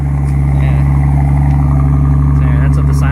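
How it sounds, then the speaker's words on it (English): A 1976 Datsun 280Z straight-six runs at a steady idle with a silencer fitted, giving a close, even, low engine hum with a constant throb. "I love the sound of a straight six and the torque."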